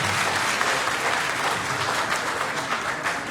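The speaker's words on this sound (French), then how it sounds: "je vous invite à applaudir pour les doyens" Audience applause for the deans at a university faculty conference, a dense, steady wash of clapping from a full hall lasting throughout, with no voices over it.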